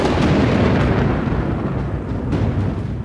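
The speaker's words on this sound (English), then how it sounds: "a storm begins to brew" Thunder rumbles through an African storm gathering over the plains, a loud, deep, continuous rolling roar that stays heavy throughout.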